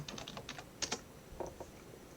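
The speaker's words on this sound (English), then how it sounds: "If I can type the command correctly." A few quick keystrokes on a computer keyboard while entering a command, close and quiet, a short cluster of clicks followed by a couple of separate taps.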